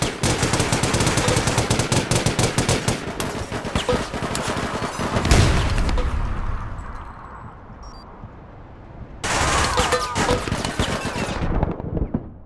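Dense automatic gunfire rattles nonstop in a video game firefight, loud and close, with a heavy boom midway, a brief lull of quieter shots, then another sustained burst.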